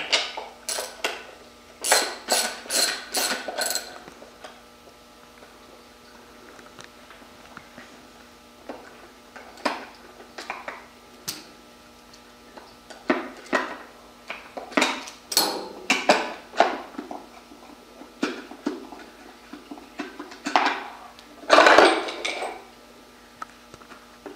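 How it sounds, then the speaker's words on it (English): A half-inch driver works on a bicycle action system installation, giving off sharp metallic clicks and clatter. The sounds come in irregular clusters, some quick and rattling, with short pauses between them. "Take your half inch driver"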